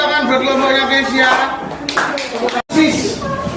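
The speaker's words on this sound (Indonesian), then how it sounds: "Oke, tepuk tangan buat kelompoknya guys ya." A group of people clap together in a classroom session, a dense, steady burst of hands heard close alongside chatter and voices, ending abruptly before a brief return of noise.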